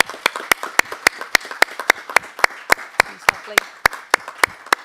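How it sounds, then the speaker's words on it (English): Clapping at a city council meeting to honour a woman named Diane: sharp, evenly spaced claps in a steady rhythm, close and distinct, with a brief spoken remark partway through. "I think we can give her a round of applause as well."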